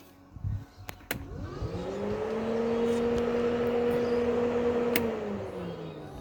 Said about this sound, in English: yep, the switch is working and the fans are working